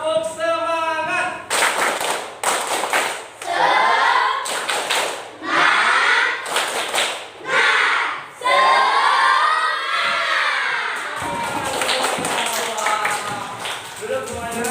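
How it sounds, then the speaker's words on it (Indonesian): Schoolchildren in a classroom stand and do a rhythmic clapping chant together, bursts of sharp unison claps alternating with loud group chanting, close and energetic throughout. "Kita tepuk semangat sama-sama ya."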